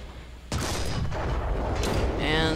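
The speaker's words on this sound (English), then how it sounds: "And I'm trying to do some ranging shots here, as you can see." A tank cannon fires a ranging shot in the online combat game War Thunder: one sharp, loud blast followed by a rolling rumble, then a second crack and a rising mechanical whine over constant game noise.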